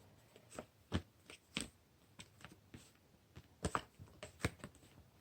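Tarot cards are shuffled close up in soft, crisp flutters and taps, arriving in irregular clusters against a quiet background.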